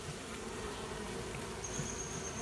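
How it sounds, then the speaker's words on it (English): A steady honeybee swarm buzz hums continuously at low volume from a backyard cable box, with no talking. "The bees are kind of wanting to sting me."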